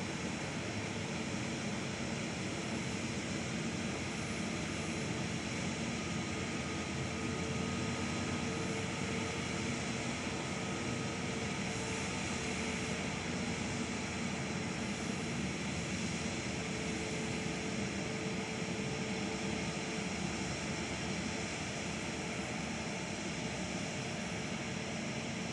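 A plane's engines drone steadily as it taxis outbound at Perth airport, a continuous broadband roar with a faint whine on top that holds even and close for the whole stretch.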